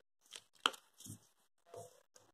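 Paper being folded and creased for an origami box, a few soft crinkling rustles and taps, close and quiet, with no talk.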